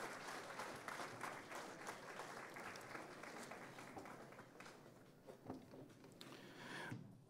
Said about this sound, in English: one more round of applause for our Miller Jordan students, high numbers, and their band directors